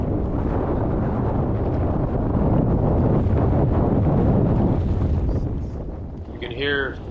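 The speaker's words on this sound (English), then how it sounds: "The wind was very strong, as you can hear on this clip." Strong gusts buffeting a microphone aboard a fishing boat on San Francisco Bay, a loud continuous low roar that rumbles for several seconds, then eases near the end as a voice briefly cuts through.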